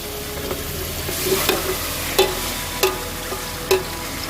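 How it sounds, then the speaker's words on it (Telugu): Kerala-style chukka mutton frying in oil, with a steady sizzle and a few sharp spoon clinks and scrapes against the pan at uneven intervals, close by. "ఇప్పుడు దీన్ని ఆయిల్లో ఫ్రై చేస్తాను"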